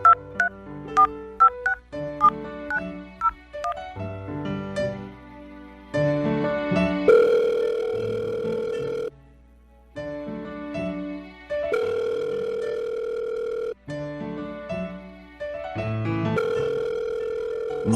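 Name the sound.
telephone dialing and dial tone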